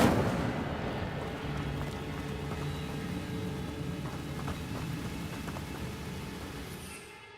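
A fire spell bursts out in a cave in the Hogwarts Legacy video game, a loud crackling, rumbling blaze that roars steadily for several seconds, then fades away near the end.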